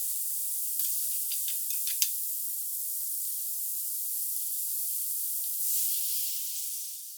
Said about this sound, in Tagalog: sinunod ko na ngang ilagay itong tapos ko nang hinugasan na gulay. Ginisa-gisa ko muna ng konti.